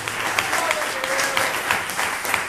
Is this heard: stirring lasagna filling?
no